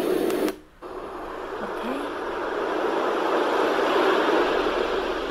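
A phone ringtone of wind and sea sounds: a steady whooshing wash of wind-and-surf noise plays continuously after a brief click and dropout, loud and even like a nature soundscape.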